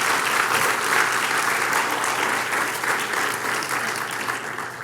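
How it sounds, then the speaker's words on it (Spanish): A church congregation applauding during a men's prayer sermon, a dense, steady clapping that fills the space and slowly tapers, with no voices. "denle un aplauso al Señor"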